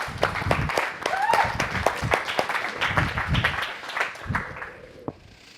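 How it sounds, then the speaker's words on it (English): Audience applause as speakers are welcomed onto the stage at a founders interview event: scattered, moderately loud clapping from a small crowd that thins out after about five seconds, with a few voices in the mix. "So give them a round of applause."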